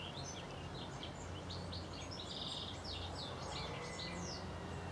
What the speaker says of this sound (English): Listen to that bird song.